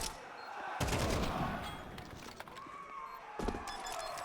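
Counter-Strike gunfire on the Ancient map during an esports semi-final bursts in rapid, dense volleys, loud and close, with a caster talking over the action.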